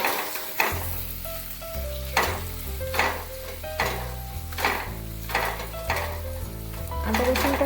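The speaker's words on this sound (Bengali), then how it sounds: "আদা রসুন বাটা দিয়ে কিছুক্ষণ পেঁয়াজের সাথে মিশিয়ে নেড়ে চেড়ে নেব।" Ginger-garlic paste fried with onions in a pan for Kasturi methi chicken: a loud close sizzle broken by regular spatula strokes and metallic scrapes about once a second.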